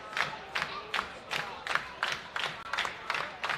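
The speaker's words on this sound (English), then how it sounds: "Crowd getting into it, clapping for Charity King" A wrestling crowd at a match between Kiera Hogan and Charity King claps in a steady rhythmic beat, about eight sharp bursts in under four seconds, over a low murmur of crowd noise.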